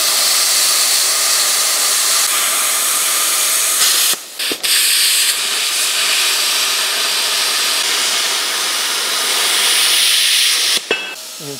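A CutSkill 35 plasma cutter at 30 amps slices through 8mm steel plate coated in paint, rust and dirt, giving a loud, steady hissing roar with two brief cut-outs along the way.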